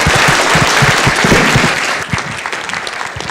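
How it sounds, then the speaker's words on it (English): Audience at a talk on restoring the American chestnut breaks into loud, close applause, a thick wash of clapping that eases slightly in the final second. "Let's have another big round of applause for Dr. Pinchot."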